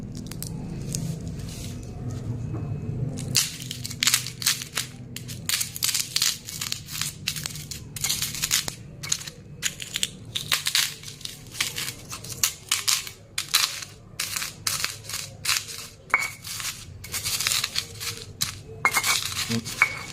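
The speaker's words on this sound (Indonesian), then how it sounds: "Ini untuk pitatonya atau kentang gorengnya kita haluskan." Fried potatoes being mashed and crushed into fishing bait for nilem fish, a steady run of close, wet squishing and crunching with scattered crackles, with no talk.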